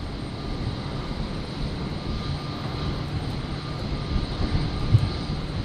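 A Virgin airliner departs from runway 01 right at Brisbane International Airport on a stormy night, a moderately loud, distant jet engine rumble that holds steady and swells slightly toward the end.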